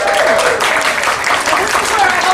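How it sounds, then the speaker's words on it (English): Audience applause in a crowded shop during a Disney Collection by Vera Bradley media preview at World of Disney, steady dense clapping filling the room with a high-pitched voice speaking over it. "This is where I hold for applause"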